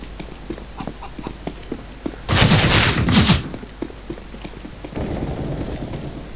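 Counter-Strike deathmatch on an Italy map: a loud burst of rapid gunfire about a second long stands out over steady footsteps and game ambience, followed by quieter continued shooting.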